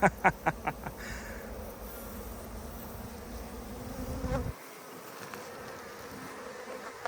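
Honeybees buzz around a beehive in a steady, droning hum that cuts off abruptly partway through and leaves a quieter buzz behind. A few sharp knocks open the sound, and no one speaks.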